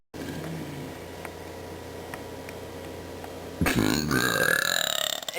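Loud burping starts near the end, over a steady faint background of ticking and hiss, as someone belches along to a pop song.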